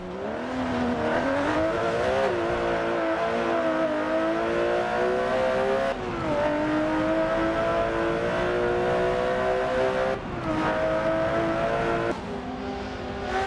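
Racing car engines in a Forza video game race, a loud continuous engine drone that climbs steadily in pitch and then drops at each gear change, repeating through several shifts.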